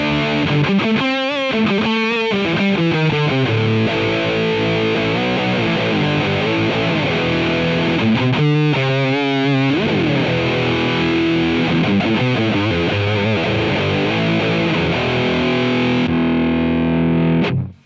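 Electric guitar played through a pedalboard into an amp, distorted and soaked in reverb, with strummed chords and picked runs ringing continuously before cutting off at the end.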